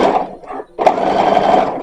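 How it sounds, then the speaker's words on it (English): A home sewing machine runs steadily up close while stitching a skirt onto a bodice for a copied 1920s–1930s dress, with a short slowdown before the motor hums on again at full speed. "what I'm doing right now is just sewing the skirt to the bodice"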